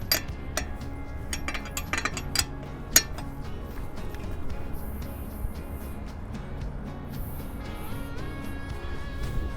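A lug wrench tightens the lug nuts on a car's changed tire, giving close, sharp metallic clinks and clicks in an irregular series over a low steady background hum.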